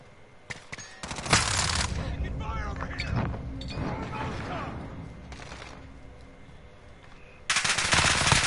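Bursts of rapid automatic machine gun fire ring out in the Call of Duty Modern Warfare video game, loud and close, mixed with other game noise and a player talking over the shooting.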